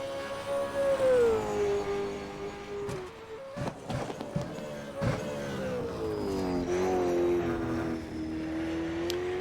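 V8 Supercars race car engines during a short race with a pit stop for fuel, a loud sustained droning engine note rising and falling in pitch as cars pass, with brief bursts of broadband roar.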